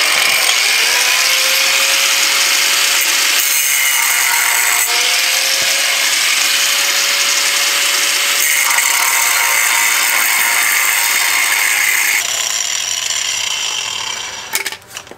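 Steel being cut with a cutoff wheel while building a mechanics workbench, a loud continuous high-pitched grinding whine that shifts in pitch as the wheel bites, ending in a few clatters.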